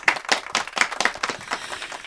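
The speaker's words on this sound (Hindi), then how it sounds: "जोरदार तालियां लक्ष्मी छाया जी के लिए।" Audience applause on a Hindi film-music radio show, honouring an actress: a short burst of fairly loud, close clapping with distinct sharp hand claps standing out from the crowd.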